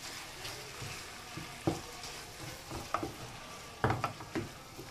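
Chopped onion and tomato cook in a pan with a low, steady sizzle, broken by a few soft clatters and scrapes of stirring, with no voices.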